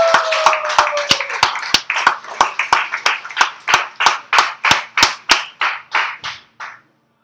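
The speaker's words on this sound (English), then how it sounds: "I want you to give a big round of applause for the comedy stylings of Mr. CJ." Audience applause for a comedian: a short round of clapping at a small comedy show, sharp individual claps in a steady, fairly quick rhythm that thins out and stops after several seconds.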